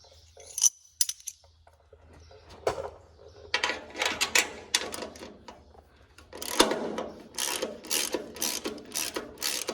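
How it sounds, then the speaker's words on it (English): 7/16 inch socket ratchet wrench clicking while removing bolts from a small plastic cover on a bean head auger, with irregular bursts of ratcheting clicks and metallic handling noises, close and fairly quiet. "I'm gonna grab that and we'll get this little plastic cover here off."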